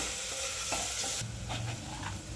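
Chili powder, garlic and coconut sautéed in a pan for a Marathi-style potato bhaji, giving a steady close sizzle with soft scraping of a spoon, the stirring easing partway through.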